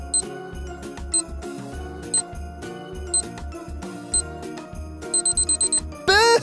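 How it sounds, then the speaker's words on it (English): A five-second countdown timer in a church quiz game, heard as a run of short repeated electronic beeps ticking about once per second over background music, ending in a rapid burst of beeps and a rising sweep. "there's a five second timer here"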